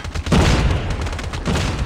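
Man O War assault rifle fire in Call of Duty Mobile, rapid bursts of loud close gunshots crackling in quick succession with a short lull in between, and no one talking over them.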